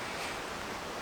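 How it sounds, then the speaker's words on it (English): Strong gusty wind blows outdoors in stormy weather on a hillside during camp cooking, a steady loud roar buffeting the microphone throughout with no other sounds or voices. "It's crazy windy in"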